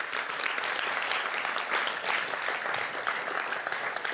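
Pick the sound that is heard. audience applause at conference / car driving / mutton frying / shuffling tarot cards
audience applause at conference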